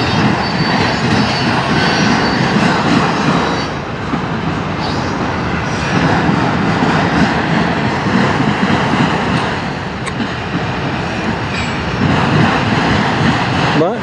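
A slow-moving NS or CSX freight train rolls past in Fostoria, Ohio, a continuous loud rumble and clatter of railcars with steady wheel noise throughout, and faint talk in the mix.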